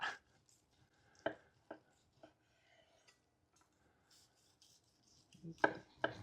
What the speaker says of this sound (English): While we're slicing this up